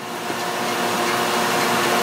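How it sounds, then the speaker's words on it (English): A surface grinder takes a fine finishing pass of about a thousandth of an inch off a steel block, giving a steady, loud, close whine and hiss that holds evenly with no talking. "I'll grind that extra thou and a half off"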